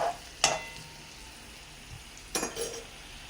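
Green chillies being stirred in a hot frying pan, two short sizzling scrapes of a utensil against the pan about two seconds apart, close by, with quiet frying in between.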